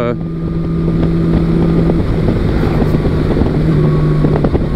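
A Honda Valkyrie motorcycle engine runs while riding, a loud, smooth, continuous drone with heavy wind rush buffeting the microphone throughout.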